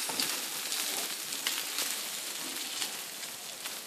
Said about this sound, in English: This has to saute for just a couple of minutes.